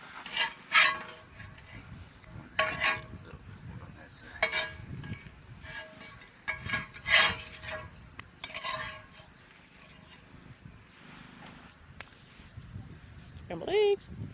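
Scrambled eggs stir and sizzle in a pan at a Joshua Tree campsite, with scraping utensil strokes and clinks of cookware beneath intermittent talking.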